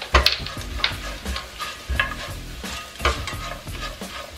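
Spices, including red chilli powder and garam masala, sizzle in a pan for pulao while a spoon scrapes and stirs in an uneven rhythm. The frying is close and continuous, with no voices.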